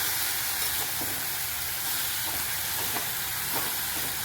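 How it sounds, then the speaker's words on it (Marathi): Dill, potato and sour sorrel being sautéed together in a pan over low heat, giving a steady, even sizzle with faint scraping touches, with no talk over it. "छान असं परतून घेऊया कमी गॅसवरतीच परतायचं"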